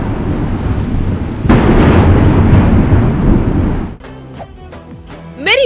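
Thunder rolls loudly over heavy rain during the northeast monsoon season in Chennai, a dense roaring downpour for several seconds before it cuts to a quieter, different sound.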